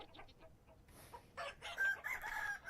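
Chickens in a hen house in the video game Vintage Story cluck and squawk in short, clear bursts, with a rooster-like crow rising near the end, fairly close and with no talk over it.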